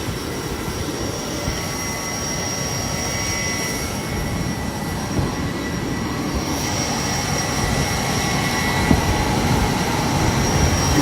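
Steady, loud jet engine drone inside an airplane cabin, a constant broadband roar with no voices over it.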